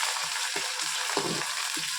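Hot, smoking oil sizzles in a kadai over high heat, a steady close crackle broken by several low thumps at irregular intervals.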